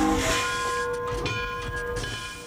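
A 2-10-0 decapod steam locomotive sounds with a loud, steady whistle-like tone over a broad hiss of steam and rumbling rail noise, close and continuous for a couple of seconds.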